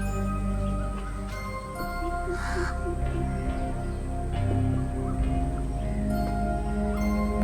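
A crow gives a few harsh caws, clear and fairly close, over a steady low background hum.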